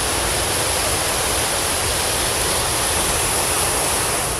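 Floodwater surging through the streets of Islamabad after a cloudburst, a loud, constant roaring rush of water that fills the whole moment without any voices.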